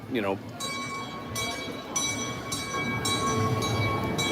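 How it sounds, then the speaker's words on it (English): Trains running at a farm rumble and clatter steadily, with a brief horn-like tone at the start and a voice talking over the rolling noise. "they are running both trains for this, so that's good"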